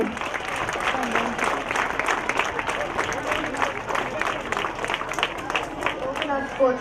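A school sports fest crowd applauds class 3 children after their team game, with dense, steady clapping and some cheering that holds loud and close for the whole stretch.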